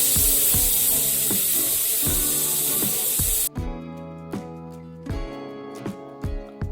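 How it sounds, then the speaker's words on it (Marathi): Steam screams from a pressure cooker cooking moong dal khichdi in one loud, continuous whistle that stops sharply about halfway through. Afterwards only rhythmic percussive background music remains. "आपण आता कुकरमध्ये चार शिट्ट्या काढून घेतोय"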